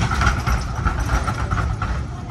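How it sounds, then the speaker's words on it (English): A tram passes Flinders Street Station in Melbourne, a loud, steady rumble with a rattling rail clatter and a faint squeal, close by and continuous throughout. "you see the tram going past Flinders Street Station"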